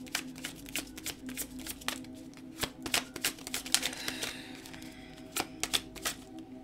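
Tarot cards being shuffled during a card reading, giving soft, irregular riffling and papery flicks with sharp clicks scattered through the passage. It is fairly quiet, with no talking.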